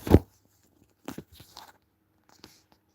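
Cat Prince Monty eats crunchy dry cat food, making a loud close crunch first and then several fainter bites and chews, with quiet pauses between them.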